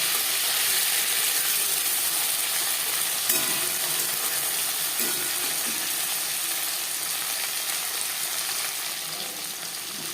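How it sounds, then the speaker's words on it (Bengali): Pieces of hilsa fish fry lightly in a pan of oil, giving a steady, close, bright sizzling hiss that fades slightly toward the end, with no voices. "মাছ আমি হালকা করে ভেজে নেব একটা সাইজ ভাজা হয়ে গেলে অপর সাইজটা উল্টে দেব"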